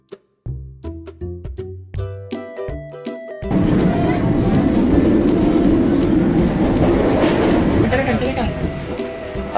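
A train runs along the rail line near Cipatat, heard from on board as a loud, steady rumble and rattle. It starts suddenly after a few seconds of music, with people talking over it.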